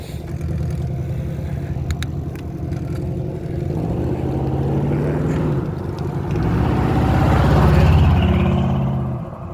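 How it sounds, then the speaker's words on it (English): An old-school classic car engine rumbles past outdoors on a foggy day, its deep drone growing louder and peaking as it goes by, with no talk. "That's an old school one right there. Still sounds good too."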